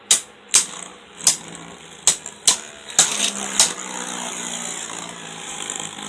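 Beyblade spinning tops Iron X Surtr and Goldex Betromoth clash in a stadium: several sharp clicking impacts come in quick succession, then settle into a steady whirring spin, loud and close.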